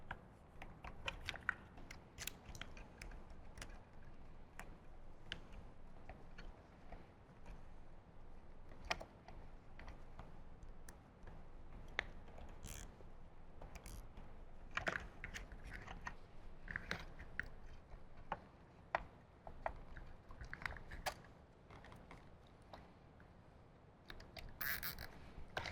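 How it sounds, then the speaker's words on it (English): Zip ties being fastened around the audio wiring of a Harley-Davidson motorcycle during an Infinity Kappa plug-and-play system install, heard as a close, steady run of small ratcheting clicks and plastic snaps with rustling handling, no talking. "Finish kind of looping everything up and getting it wire tied."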